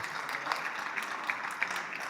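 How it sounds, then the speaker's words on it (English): An audience at a regional youth mental health conference applauds the panelists, a steady, moderately distant round of clapping with a few sharper claps standing out. "could we give them a very big round of applause"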